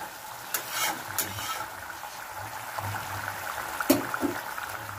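Katla fish simmering in oil jhal curry: a quiet, steady bubbling sizzle with occasional soft stirring clicks and taps, close and faint, with no talk.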